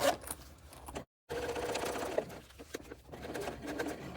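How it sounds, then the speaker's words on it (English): A sewing machine top stitching along the edge of a fabric lining tab, running steadily and fairly close for most of the stretch, with one brief stop partway through before the motor picks up again. "lower the needle, and just sewing along this edge"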